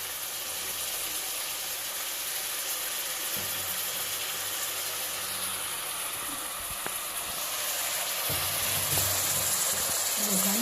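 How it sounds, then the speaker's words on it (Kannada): A fenugreek-leaf pulao mixture fries gently over a low flame, giving a steady, even hiss throughout with a few soft low knocks near the end. "ಸಣ್ಣ ಉರಿಯಲ್ಲಿ ಚೆನ್ನಾಗಿ ಫ್ರೈ ಮಾಡಬೇಕು"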